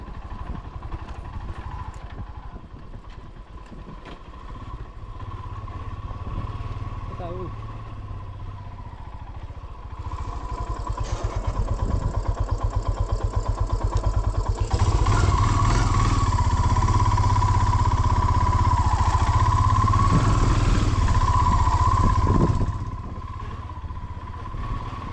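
A motorcycle engine runs on a stone-paved village road, a steady close drone with rattling clatter that swells louder midway and then drops back near the end.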